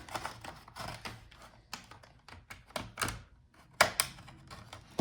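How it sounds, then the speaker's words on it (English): A plastic pry tool working around the edge of a Dell Latitude 7530 laptop's bottom case, giving a series of irregular close clicks and snaps as the clips release, some louder than others, with no voices. "find the place where you can put your tool in and start working your way around the whole edge to separate all the clips"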